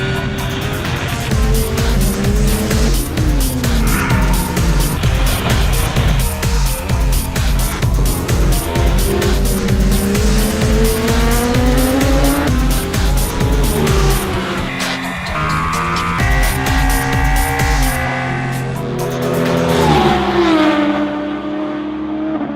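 Ducati Multistrada 1200S and BMW S1000XR motorcycles ridden fast on a track, their engines revving loudly and continuously with rising and falling pitch as they accelerate and shift, close and dominant throughout.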